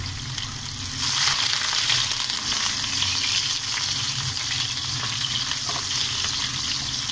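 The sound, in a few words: onion sautéing in a kadhai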